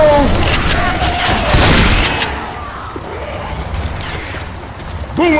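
Thrown explosive going off in Left 4 Dead 2, heavy booming blasts and crackling debris in the first two seconds amid chaotic game noise, fading into a quieter rumble afterward.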